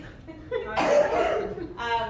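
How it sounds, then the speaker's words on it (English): A person coughs nearby, a short harsh burst followed by throaty rasping, with voiced sounds before and after. "I'm just getting these coughing attacks"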